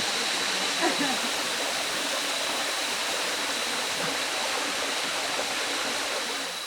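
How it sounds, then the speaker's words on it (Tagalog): A mountain stream pours in a steady, dense rush of water on a forested peak trail, loud and close throughout, with a brief splash near the start and faint voices under it. "Mag-igib muna tayo ng tubig."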